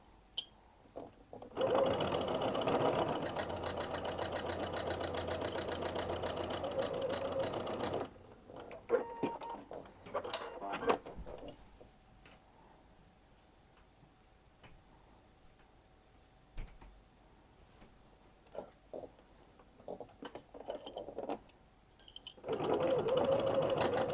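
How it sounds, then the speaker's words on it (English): Sewing machine stitching the keyhole bodice of a luxury bag, running in a steady loud burst, pausing for a long quiet stretch with faint handling, then starting up again near the end. "So now I will sew these."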